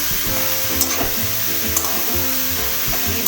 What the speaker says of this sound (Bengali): তার ঝিরিঝিরি করে কেটে রাখা এই লাউগুলো আমি এখানে দিয়ে দিলাম